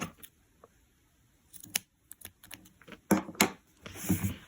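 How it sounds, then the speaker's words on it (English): Scissors snip crochet yarn ends on a finished snowman scarf, several short, faint, sharp cuts in irregular succession, close up with no talking. "you can go ahead and trim your yarn ends"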